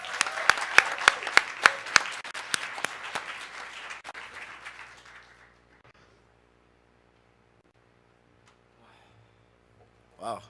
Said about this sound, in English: Can we get a huge round of applause for President Pratt?